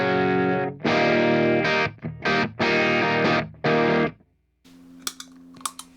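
An electric guitar through a 385 overdrive pedal on a lighter setting plays a few chunky chords with short gaps, then rings out quietly as light picking noises follow.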